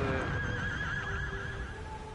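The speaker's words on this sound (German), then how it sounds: "jetzt müssen wir nochmal das Pferd wiedersehen, der jetzt leidet und stirbt" Horse in the Shadow of the Colossus video game giving a short, close whinny that wavers in pitch, over a low background rumble.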